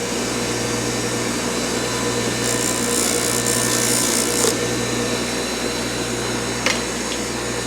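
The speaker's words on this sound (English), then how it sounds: "Just take and clean up the ends here on the grinder." A bench grinder whirs loudly and continuously while flattening the ends of a motorcycle control cable for a Yamaha YL2C Trailmaster 100cc, with brief brighter bursts of metal contact partway through.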